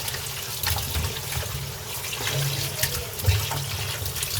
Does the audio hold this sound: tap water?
yes